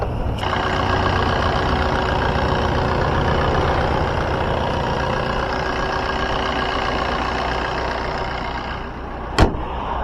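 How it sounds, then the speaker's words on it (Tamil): Steady, loud diesel engine of a used Maruti Suzuki Swift Dzire idling with a constant low rumble and rattle, a brief click near the end. "இப்போ வாங்க வண்டியோட இன்ஜின் சவுண்டு எப்படி இருக்குது அப்படின்றத கேட்போம்"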